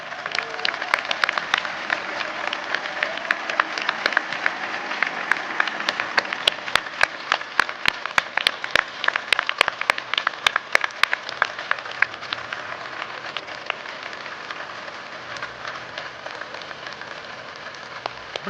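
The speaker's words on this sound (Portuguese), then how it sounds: "Peço mais uma salva de palmas para a equipa Samsis," An audience at a corporate event applauds a team, producing sustained, moderately distant clapping from many hands with dense, irregular claps that slowly thin out toward the end.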